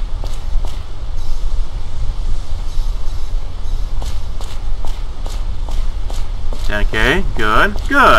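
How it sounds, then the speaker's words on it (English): Footsteps in the video game Extermination thud in a steady rhythm of distinct impacts, growing into a louder, busier clatter near the end, while a person speaks briefly over them. "I'm only hearing, like, say, footsteps"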